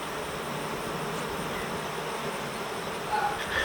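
Honeybees buzzing steadily around a queenless cutout colony during frame work, a continuous close hum of many bees with a few individual bees droning nearer toward the end.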